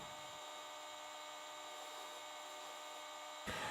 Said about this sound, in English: I begin buffing with the most aggressive wheel.